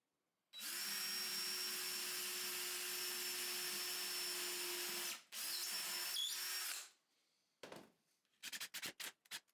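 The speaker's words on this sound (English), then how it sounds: "screw the bottom plank from under, with longer screws, through the side skirts" A power drill drives long screws up through the side skirts into the bottom plank of a single 2x4 table, a loud sustained whir for about five seconds, a short pause, then another burst, followed by brief clicks and handling taps.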